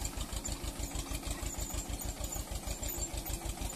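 An Escorts Maruti tractor pulls a cultivator through a sugarcane field, its engine chugging in a steady, rapid rhythmic thump at close range, loud and continuous with no talking.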